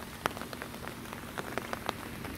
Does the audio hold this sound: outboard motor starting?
no